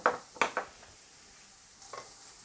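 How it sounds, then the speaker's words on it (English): Minced garlic softens in a pan for venison osso buco, giving a faint, soft sizzle. A few quick stirring scrapes come at the start and again near the end. "I'm going to squeeze in some squashed garlic or minced garlic, whatever"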